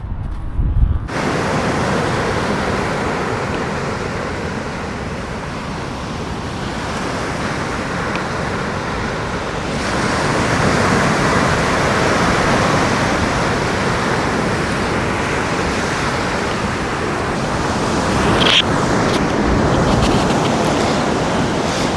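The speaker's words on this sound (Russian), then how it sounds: "Вообще как-то не верится, что это Атлантический океан." Atlantic Ocean surf on a beach, a steady loud roar of breaking waves that swells and eases slightly, with wind noise and no voices.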